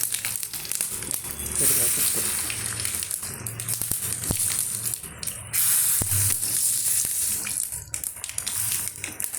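Steady, loud hissing sizzle of mustard seeds and chili frying in hot oil, continuous throughout, with faint talk underneath.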